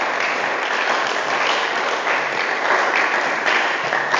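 A church congregation applauds to acclaim the Lord, giving steady, dense clapping from many hands that fills the room at a constant loud level throughout.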